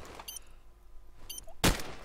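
Gunfire in a Counter-Strike match: a couple of faint distant shot bursts, then one loud, sharp close shot near the end, set against a quiet background.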